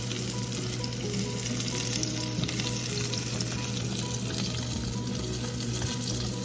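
Steady, close sizzling of Parmesan-crusted chicken frying in a hot pan, a continuous crackle with no talking.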